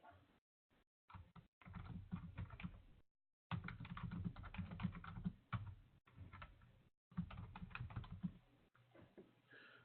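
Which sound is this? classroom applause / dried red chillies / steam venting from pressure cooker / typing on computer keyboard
typing on computer keyboard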